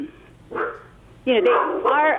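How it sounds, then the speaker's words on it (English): A pet dog at home barks and yips a few times in quick succession, fairly close and loud, while a person talks over it. "Sorry, my dog."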